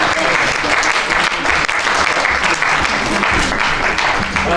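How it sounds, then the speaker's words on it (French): Loud, dense applause from an event audience welcoming exhibitors to the stage, continuous and steady for the whole stretch with no voices standing out. "sous vos applaudissements"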